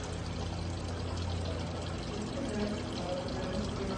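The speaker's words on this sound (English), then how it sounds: "So I'm draining the antifreeze." Antifreeze drains from a Suzuki Samurai radiator in a steady, fairly quiet pour that runs without a break, with no talk over it.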